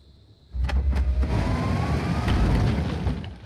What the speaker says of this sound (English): let's move the vehicle forward as far as we can